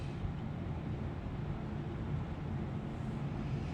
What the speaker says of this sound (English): Right there's our exhaust leak.